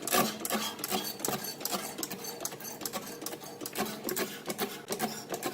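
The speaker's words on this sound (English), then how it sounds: "then I am going to scrub this out" Brisk scrubbing strokes work over a greasy oven interior sprayed with cleaner, a quick, uneven scratching rhythm at moderate loudness with no talking.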